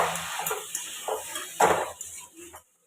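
Potatoes in oil are stirred with fresh coriander leaves in a pan for a Jammu-style rajma, giving close, scattered scraping clinks of a utensil against metal that stop abruptly at the end.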